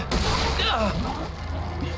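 Gunfire in the video game Resident Evil 7, a sharp shot at the start followed by booming, rumbling echoes under a lingering low drone.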